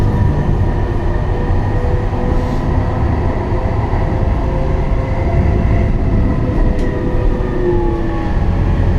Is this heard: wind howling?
no